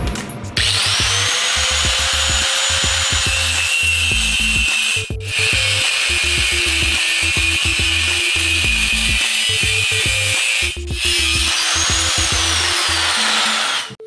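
A power tool cuts the steel lower U-channel of a DIY neck rake kit for a Harley bagger, grinding loudly and continuously with rhythmic chattering pulses and two brief pauses, close up and without speech.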